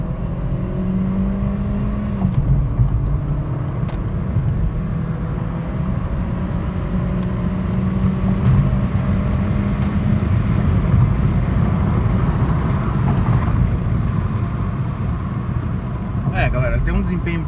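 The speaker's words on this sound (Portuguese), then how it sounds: "Só vou pisar tudo no acelerador." Peugeot 208 Active 2022 accelerating at full throttle in drive, a steady engine whir climbing gradually in pitch, moderately loud from inside the car, with a brief shift in tone near the end.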